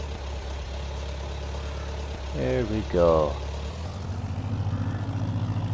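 A farm tractor engine rumbles steadily nearby, its low drone joined by a rising mechanical whine, then settles into a throbbing idle-like pulse; someone speaks briefly over it.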